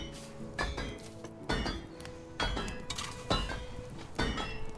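Repeated metal hammering in the medieval survival game Medieval Dynasty, about six sharp clanging strikes at a steady, roughly once-per-second rhythm, loud and close with no talk.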